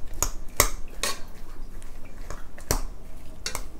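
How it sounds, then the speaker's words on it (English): A utensil works through soft boiled potatoes in a pot, with repeated scraping clanks of metal against the pot at an irregular pace over a constant mushy background, close and fairly loud, no speech. "we're gonna mash these potatoes on up."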